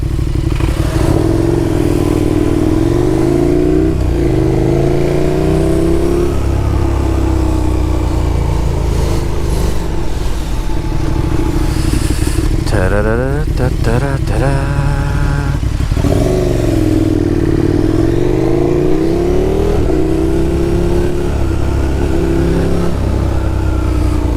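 KTM 1290 Super Duke motorcycle engine, loud and close, idling with a deep lumpy throb, then revved in quick rising blips around the middle before settling back to idle, with some mechanical clatter and no talk.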